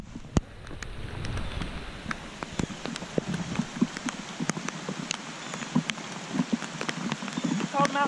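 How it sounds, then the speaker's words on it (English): Rain falling outdoors, with scattered sharp drops tapping nearby over a soft hiss of rainfall, fairly quiet and irregular throughout. "I've been standing in the rain like this right here to keep my right side dry."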